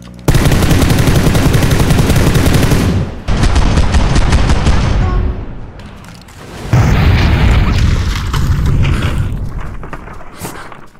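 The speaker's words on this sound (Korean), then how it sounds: "폭발했어" Explosions and rapid gunfire in the battle-royale video game PUBG: dense bursts of automatic fire and booming blasts, loud and close, with brief lulls between volleys.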